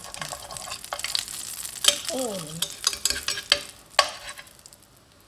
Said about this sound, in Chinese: 包放下去，煎一煎它的底部